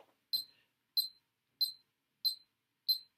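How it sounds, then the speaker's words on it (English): Five evenly spaced high electronic metronome beeps tick out a steady beat in near silence, each short and clear. "you can hear the beep"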